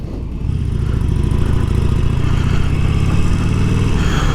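A 2018 Harley-Davidson Iron 1200 Sportster engine running close by, a loud, steady, deep rumbling idle that holds evenly throughout.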